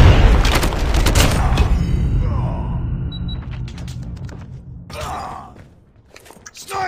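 A frag grenade explodes in a military shooter video game: a loud, close blast opens the passage with rumbling booms and crackling gunfire. Shouted voices come in over the fading rumble.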